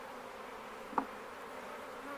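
Honey bees buzz steadily around a hive during a colony split in February, a soft continuous drone with one brief louder pass close by.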